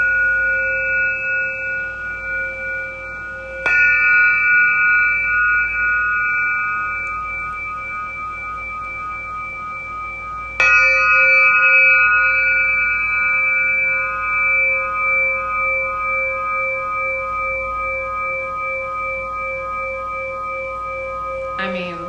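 A metal singing bowl struck with a suede-wrapped PVC pipe mallet rings out with long sustained pure tones, hit twice several seconds apart, each strike blooming and slowly decaying, loud and close with no talking.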